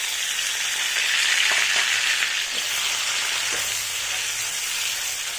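Onions frying in butter in a pan, a dense, even hiss of sizzling fat that runs unbroken and fairly loud, with faint occasional utensil taps underneath.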